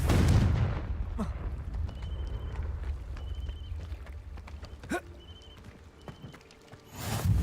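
A Confringo explosive spell goes off in Hogwarts Legacy, a loud boom at the start that trails into a low rumble, with sharp cracks and game effects following and another surge at the end.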